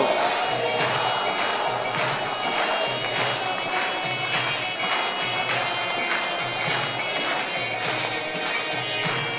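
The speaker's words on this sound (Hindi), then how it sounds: "सारे बोलो ताली बजाओ।" Congregation clapping in steady rhythm during a Hare Krishna kirtan at a Sunday feast, evenly spaced claps repeating over sustained devotional music throughout.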